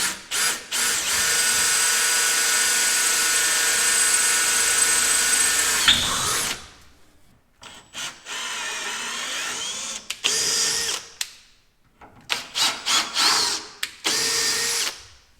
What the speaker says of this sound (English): The bottom I'm going to drill and tap because it's quarter,